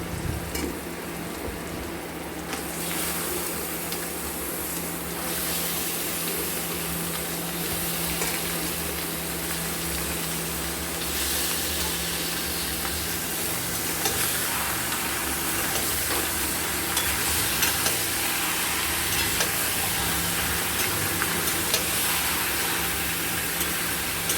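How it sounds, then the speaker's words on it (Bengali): Mutton frying with browned onions in a pan, giving a continuous, fairly loud sizzling hiss that holds steady throughout with no voices. "এবার আমরা ধুয়ে রাখা মাটনগুলো দিয়ে দেবো।"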